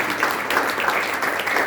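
Church congregation at a Friday night service applauding, a faint, steady patter of many hands clapping at a distance for a brief moment, with no talking.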